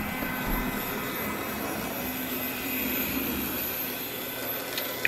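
A PFM brass Sn3 model of Rio Grande Southern steam locomotive #25 runs on a layout's S-curves, giving a steady whirring, rumbling hum close by that holds evenly throughout, ending in a brief clack.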